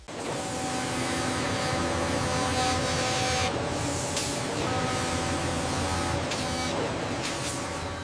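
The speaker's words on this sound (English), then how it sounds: "The CNC department transforms solid blocks of acetate into the precise three-dimensional frame shapes designed by eyewear stylists." A CNC machine in a sunglasses factory mills solid acetate blocks into eyewear frames, giving a continuous loud whine and whir with a few short tonal shifts as the cutter works.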